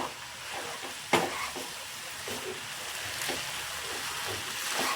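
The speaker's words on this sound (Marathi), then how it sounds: "आता आपण भाताला परतून घेणार आहोत." Rice and vegetables stir-fried in a pan for mushroom rice make a soft steady sizzle, broken by occasional scraping stirs and a sharper clack of the spatula against the pan, at a close and fairly quiet level.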